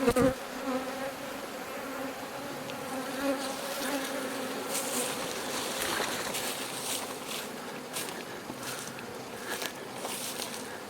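Honeybees forage over a field of flowering phacelia on a hillside, their buzzing forming a dense, continuous drone of many insects at moderate distance, with occasional louder passes as individual bees fly close by.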